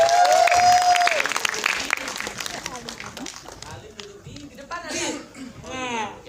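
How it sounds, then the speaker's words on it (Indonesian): An audience at a press conference breaks into loud applause and cheering, which fades into scattered claps and chatter while a voice speaks over the room. "Oke, tepuk tangan buat Alim."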